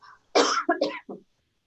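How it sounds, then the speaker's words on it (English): A short burst of coughing, three or four harsh coughs in quick succession, close and fairly loud, then silence. "Pardon me, I got a cough."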